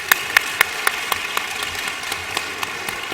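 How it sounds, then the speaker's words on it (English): An audience applauds panelists at a conference on pathways to graduation, college and career for students of color, with scattered sharp claps that start distinct and blend into a moderate, fairly close round of clapping. "So let's give the panelists another round of applause."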